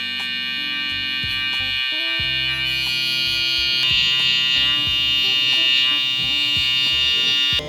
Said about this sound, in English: I'm gonna use my trimmer to softly flick up about 1/2 inch, 1/2 finger at the bottom